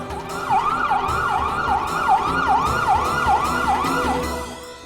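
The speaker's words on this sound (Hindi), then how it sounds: "एम्बुलेंस।" An ambulance siren wails in a steady, rapidly repeating up-and-down pattern, close and loud, running without pause and with no voices over it.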